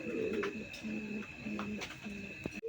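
Pigeons kept in a coop for sale coo in soft, repeated low phrases. The calls sit close and come alone over a faint steady background hum.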